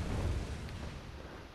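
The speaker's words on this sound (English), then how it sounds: "Yeah, so he blew up, but the pots weren't there to make the explosion bigger." An enemy blows up in the Bloodborne Old Hunters DLC. The blast is a dull, low rumbling boom that rolls on steadily for about a second and a half, with no sharp attack.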